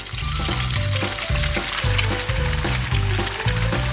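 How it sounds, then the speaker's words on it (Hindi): Breaded fish nuggets sizzle and crackle in hot oil in a frying pan, a loud, steady close-up fry with rhythmic bumps as pieces shift. "अब फ्राइंग पैन में तेल डाला और अब इसे फ्राई करेंगे"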